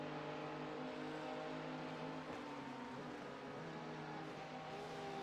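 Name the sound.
LMP2 race cars passing in a racing video game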